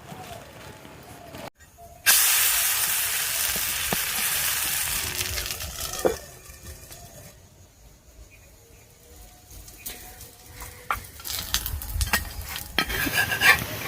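Semolina-potato snacks fry in a pan with a loud hissing sizzle that surges for a few seconds, then settles into softer crackling with light utensil clinks.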